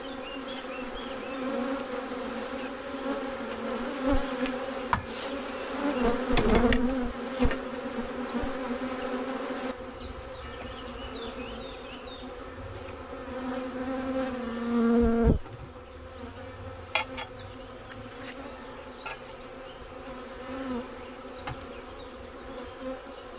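A cluster of honeybees buzzes at a hive in a continuous droning hum, with individual bees swelling close to the ear now and then, and a brief handling thump midway.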